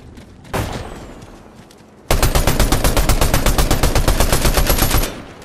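Gunfire from a gun in the video game Fortnite: a single loud shot, a pause, then a rapid, evenly spaced burst of about twenty close, punchy shots lasting nearly three seconds before stopping abruptly.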